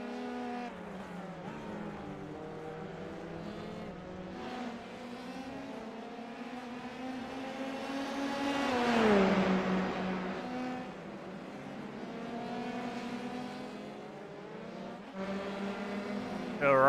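Formula 3 race cars in a racing video game roar steadily throughout, engines rising and falling through gear changes with a louder pass near the middle and a sharp climb at the very end, a commentator talking over them.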